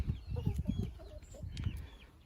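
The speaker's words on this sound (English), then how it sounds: "we've got some of the little chicks, and they're 4 weeks old now. There's a few of them, some of the hens" Hens and four-week-old chicks in a backyard coop on a small London hilltop plot cluck and murmur in soft, irregular bursts nearby, with a few brief higher peeps over a faint outdoor background.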